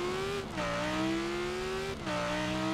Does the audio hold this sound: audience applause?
no